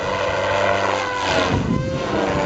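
A radio-controlled helicopter flies nearby, its rotor and motor giving a loud, steady buzzing whine that swells slightly as it passes, with no voices.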